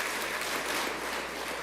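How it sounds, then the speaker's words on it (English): Audience applause at a national honours and investiture ceremony, a dense, steady wash of clapping that stays even for the whole brief moment. "Let's give them all a round of applause,"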